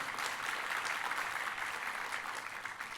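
A church congregation applauds during a worship service, a steady dense wash of clapping held at an even, moderately quiet level throughout.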